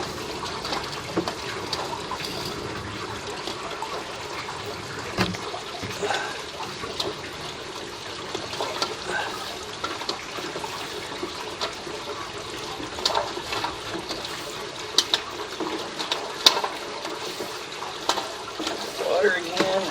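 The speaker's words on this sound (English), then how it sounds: "We're running some water to help clear up the line" Water running through a drain line, a steady low-level rush and trickle throughout with faint irregular splashes, fairly quiet and continuous.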